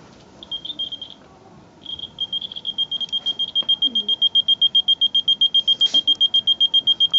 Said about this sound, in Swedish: Det här är ett larm.